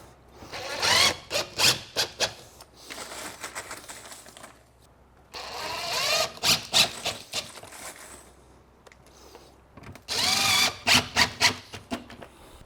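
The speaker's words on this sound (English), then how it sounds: "Just take a couple of the screws and just screw it right into the subfloor." A power drill drives screws through a curbless shower drain into the subfloor in three separate loud bursts, each a whining, stuttering run of sharp grinding pulses, close up with pauses between.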